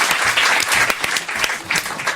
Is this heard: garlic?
no